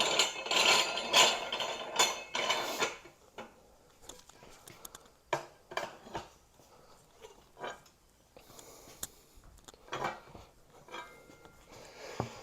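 A ratchet tightening down the hook of a manual tire changer while swapping truck tires, giving clusters of close metallic clicks and clanks in irregular bursts, busier at first, then sparser with quieter gaps.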